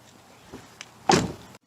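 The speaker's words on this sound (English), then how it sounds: "we're gonna close the door" A door swings shut with one solid thud near the end, preceded by a couple of faint knocks and rustles in an indoor family room.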